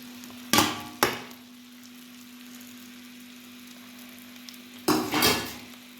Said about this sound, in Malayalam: ഇനി ഇതിലേക്ക് നമ്മുടെ നാരങ്ങ ഉണക്കി വെച്ചിരിക്കുന്നത് ചേർത്ത് കൊടുക്കാം